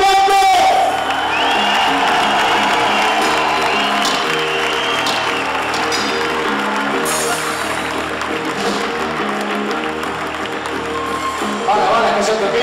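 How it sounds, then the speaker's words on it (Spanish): Crowd at an outdoor rock festival in Spain applauding, cheering and whooping between band sets, while a PA voice speaks over the noise and instrument tones ring underneath. "Pero un aplauso a muerte, ¿vale?"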